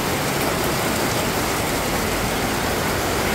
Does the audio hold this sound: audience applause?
no